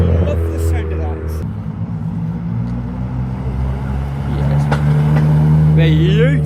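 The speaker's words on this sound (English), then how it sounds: "Oh, turbo. Oh yes, love the sound of that." Turbocharged car at a car meet, its engine revving and accelerating nearby, with a rising whine near the end, while people talk close by.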